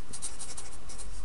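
Pen or marker writing a math equation on a board or paper during a slope lesson, giving short scratchy strokes in quick bursts, close and fairly quiet with no talking.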